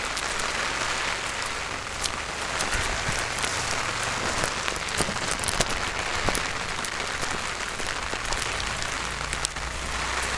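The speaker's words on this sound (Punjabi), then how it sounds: "ਤਿੰਨ ਦਿਨ ਹੋ ਗਏ ਮੁਕਸਰ ਏਰੀਆ 'ਚ ਬਹੁਤ ਜ਼ਿਆਦਾ ਮੀਂਹ ਆ" Dense, steady patter of heavy rain drumming on surfaces in Muktsar, Punjab, continuous and loud throughout, with no voices.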